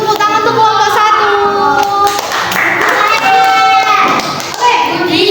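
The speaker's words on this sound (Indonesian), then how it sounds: "Beri tepuk tangan untuk kelompok 1." Schoolchildren in a classroom clap for a group after its presentation, the clapping loud and close and mixed with excited children's voices and shouts for several seconds.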